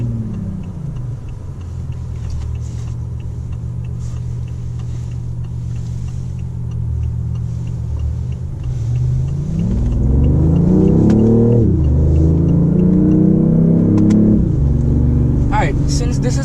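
A BMW i8 hybrid supercar's engine rumbles steadily, then rises in pitch through several rev sweeps with throttle blips on downshifts, loud and close, while someone talks over it.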